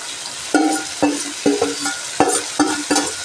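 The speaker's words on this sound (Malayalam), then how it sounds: "ഇഞ്ചി വെളുത്തുള്ളിയൊക്കെ ഇത് നമുക്കൊരു ചിക്കൻ്റെ മേളിലോട്ടങ്ങ് ഇട്ട് കൊടുക്കാം" Ginger and garlic go onto chicken frying in a pan, a soft steady sizzle broken by several sharp clanks of a spoon stirring against the pan, close and alone.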